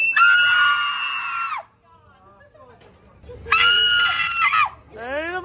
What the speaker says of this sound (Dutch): Wie kan het hardste schreeuwen?